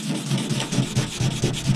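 Scuffing primer on a body panel of a 1996 turbo Honda Civic, a close, steady rhythmic rubbing of abrasive strokes repeating several times a second.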